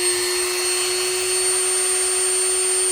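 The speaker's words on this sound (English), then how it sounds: "we can grind this off. So we're going to take our Dremel" A Dremel rotary tool grinds excess hardened material off an ITC hearing aid shell, a loud steady high-pitched whine holding constant and close for the whole stretch with no talk.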